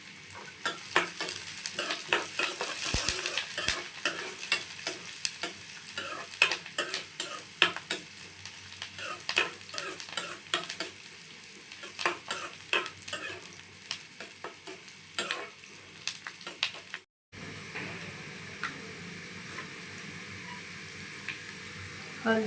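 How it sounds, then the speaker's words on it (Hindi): Onion fries in a hot pan, giving a steady close sizzle with scraping, clattering strokes of a spoon as it is stirred throughout, and one brief cut near the end. "अभी गया इसमें प्याज, और इसको मैं अच्छे से भून लूँगी।"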